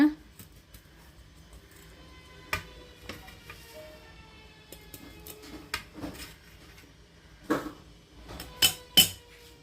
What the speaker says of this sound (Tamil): ஃப்ரெண்ட்ஸ் இப்போ வந்து நம்ம கேக் கட் பண்ணலாம்.